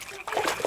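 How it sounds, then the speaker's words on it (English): A stone splashes into water in the video game Kingdom Come: Deliverance II, a soft watery splash and slosh heard quietly beneath game voices. "Throw a stone in the water near her to lure her away."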